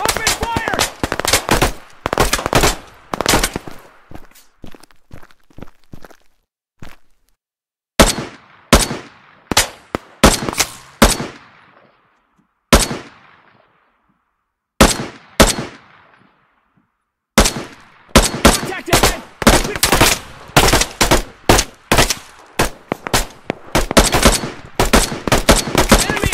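Close, loud bursts of automatic rifle fire in a PMC military video game, coming in rapid strings separated by short silent gaps.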